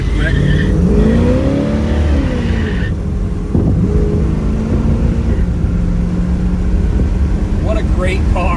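A 1969 Chevrolet Chevelle SS 396 muscle car drives past close by on a damp road, its engine rising and falling steadily over a constant loud rumble, with a brief sharper change midway.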